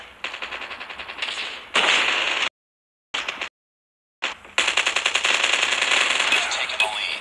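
Rapid machine gun fire in Call of Duty Mobile, loud dense bursts broken by two short silent gaps, then a long sustained stream of shots at the end.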